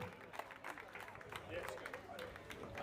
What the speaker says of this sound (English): Thank you very much, Doncaster, for the applause for all these athletes